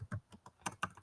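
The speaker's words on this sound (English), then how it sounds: "Let me type this." Fingers type quickly on a computer keyboard, giving about half a dozen soft, close keystrokes in a short, uneven burst.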